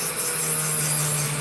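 A grinding wheel whines steadily against opal, a constant high abrasive hiss with a low hum underneath, close and uninterrupted.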